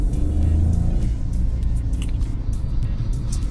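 A car with an IMT gearbox slows after a downshift into first gear, its engine giving a steady, loud, low rumble throughout.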